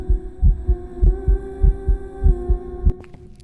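A low, heavy heartbeat-like pulse thumps steadily about twice a second over a sustained hum during the red light room ghost event in the video game Phasmophobia, with no voices.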